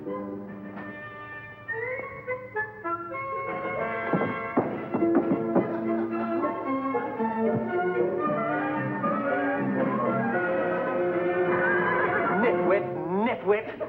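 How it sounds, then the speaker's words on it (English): A horse neighing and whinnying in a 1950s sitcom scene, long expressive whinnies rising and falling over several seconds, with occasional hoof clip-clops on a floor and people talking around it. "Mr. Albright, the horse has taken such a liking for you"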